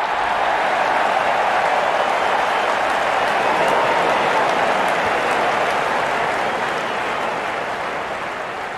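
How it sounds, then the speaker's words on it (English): A good crowd at an Afghanistan vs Ireland one-day international cricket match cheers and applauds steadily as the openers walk out, a dense, unbroken roar that eases slightly toward the end. "Out come the openers, cheered by a good crowd in."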